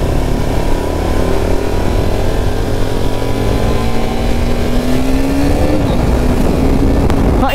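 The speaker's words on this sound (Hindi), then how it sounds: "अभी तो मैं इसको मतलब 7000 आरपीएम से ऊपर नहीं लेके जा रहा हूँ, अल्टीमेट फील दे रही है यार बाइक" A KTM Duke 200 motorcycle engine revs loud and close on a street ride, a continuous roar whose pitch climbs steadily and then dips slightly, with no talk over it.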